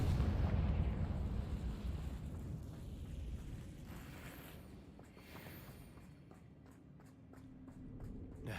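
A Confringo blasting spell in a video game sets off a deep, rumbling explosion that slowly fades. Light rhythmic ticking follows near the end, with no voices.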